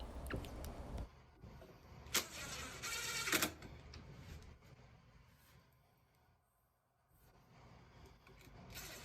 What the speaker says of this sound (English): With glue and screws, we will attach the lower brace.